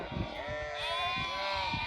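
An Akkaraman sheep bleats loudly and close by in a flock near Mount Ağrı, with a wavering, drawn-out cry repeated twice over a low rumbling background.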